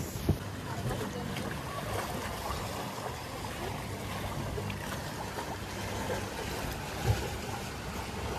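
Boat engine and water noise rumbling steadily with wind buffeting the microphone near a sea cave in Milos, Greece, and voices talking faintly in the background.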